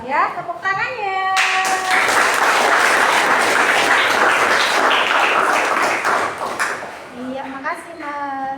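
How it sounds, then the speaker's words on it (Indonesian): A room of listeners, many of them children, bursts into sustained clapping after a lesson on wearing the ihram cloth; the applause swells quickly, holds strong for several seconds, then fades as a voice resumes talking over it. "tepuk tangannya"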